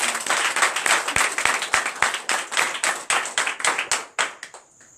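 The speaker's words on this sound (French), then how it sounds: "Donne l'acclamation, je sais." Rhythmic, loud clapping from a church congregation during a night service of deliverance and prophecy, with steady beats that build then thin out near the end.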